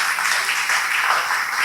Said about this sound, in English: I think we owe this panel a really huge round of applause.